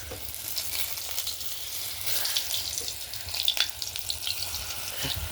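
Jukti flower fritters fry in hot white oil in an iron wok over a wood fire in a village kitchen, a continuous close hissing sizzle with brief crackles and pops rising over it.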